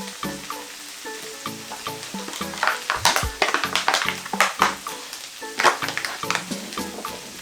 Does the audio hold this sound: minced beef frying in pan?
yes